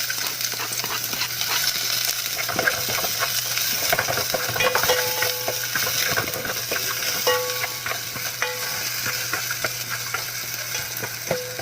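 Onion and garlic sautéing in a small amount of oil, a steady close sizzle layered with scraping and light metallic clinks of a utensil against the pan, with no speech.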